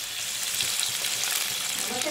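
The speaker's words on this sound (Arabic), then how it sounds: "غادي ندير هذيك الحوته هكا في الماء ونديرها في الزيت" Fish, dipped in water and coated in flour, fries in hot oil, a dense, even sizzle and crackle that fills the short stretch at close range.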